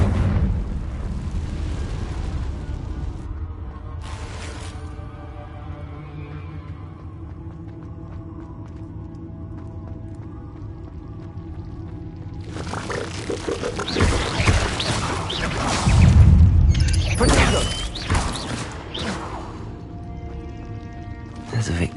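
Confringo blasting-spell explosions in a video game: after a long stretch of low rumbling, a series of loud, heavy booms and bursts erupts in the second half, with voices talking over the blasts.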